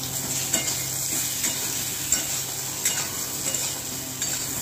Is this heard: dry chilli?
yes